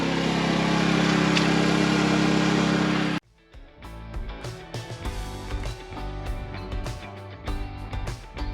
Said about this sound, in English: I'm just operating the log splitter here